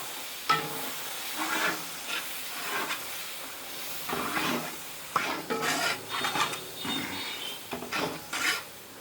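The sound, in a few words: stirring spices and tomato masala together in a pan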